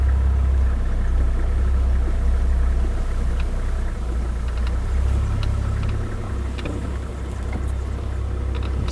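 A car engine idling at a steady low rumble, close and constant with slight variation, no speech.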